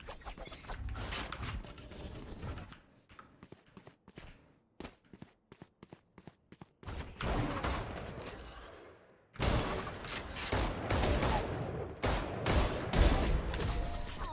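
Video-game gunfire crackles in rapid bursts with short pauses between them, then turns into denser, louder sustained shooting. Footstep-like shuffles are mixed in, and there is no talk.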